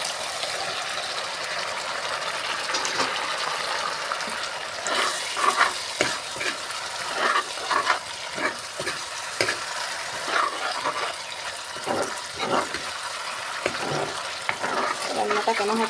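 Prawns drop into hot oil in a pan and fry with a steady sizzle. Repeated scraping strokes from stirring come through close and clear, and no one speaks.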